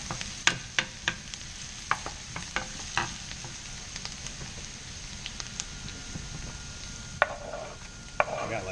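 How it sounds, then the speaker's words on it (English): Diced garlic is stirred into translucent onions frying in a pan, giving a soft steady sizzle under scattered sharp clicks and scrapes of the utensil, close and quiet, with no talking. "So now I'm going to add some garlic."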